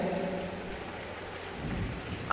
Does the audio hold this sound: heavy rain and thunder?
yes